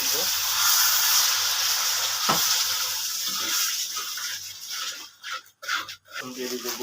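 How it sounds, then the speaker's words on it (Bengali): Water poured into spiced pizza sauce in a hot pan: a broad, steady hiss and sizzle for several seconds that fades and grows uneven, broken by a few short clatters near the end. "হালকা একটু পানি দিব"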